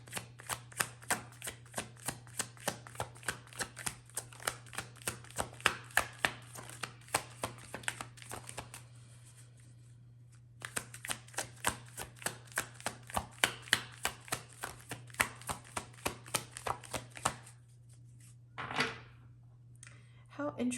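A deck of tarot cards is shuffled in long runs of quick, rhythmic riffling snaps, close and crisp, pausing briefly midway before resuming, ending with a light shuffle of handling.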